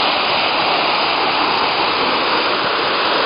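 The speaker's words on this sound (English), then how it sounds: "it's called Honey Waterfalls" Honey Waterfalls near Kislovodsk pour in a steady, loud, close roar of falling water that fills the whole stretch without a break.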